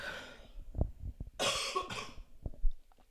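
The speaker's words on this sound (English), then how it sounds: "Sorry about the coughing." A person coughs several times in short, rough bursts, close to the microphone, with breathy throat sounds between them and no speech.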